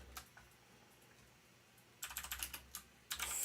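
Typing on a computer keyboard while coding a rock-paper-scissors program, with a few soft clicks, then a quick clattering run of keystrokes and a final louder burst, close and fairly quiet.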